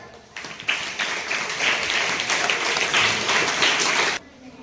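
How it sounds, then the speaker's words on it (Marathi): Classroom audience applauding during a quiz on the right to information, a dense burst of clapping that rises sharply, holds steady for about three and a half seconds, then stops abruptly. "सगळ्यांनी टाळ्या वाजायच्या"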